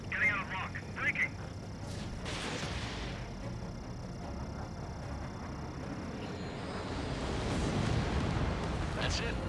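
An enemy bomber shot down in the Ace Combat 7 video game: a rumbling explosion and jet roar swelling toward the end, under radio chatter from the game's pilots.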